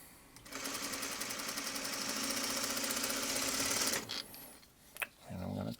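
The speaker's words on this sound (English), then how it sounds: "and we're sewing." A sewing machine stitching a middle row of quilt blocks together, a loud continuous rapid mechanical whir for several seconds that stops abruptly, followed by brief handling noises and a short voice.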